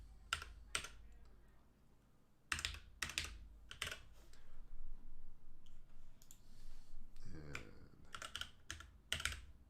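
A computer keyboard tapped in short bursts of close, crisp keystrokes while a password is entered, with pauses between bursts and a low voice murmuring midway.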